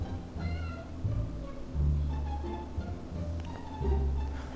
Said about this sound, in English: Oh, it's probably just a cat.